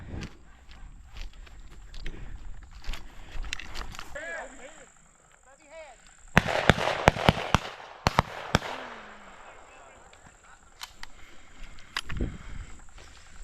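Shotguns firing at a dove hunt opener in Tennessee, a rapid cluster of sharp reports around the middle with a couple more scattered later, heard outdoors with hunters talking and calling out between shots.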